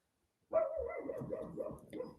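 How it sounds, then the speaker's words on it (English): A pet dog indoors gives a short run of close, moderately loud barks and yips that blend into one another over about a second and a half, with no talk. "And my dog says hello."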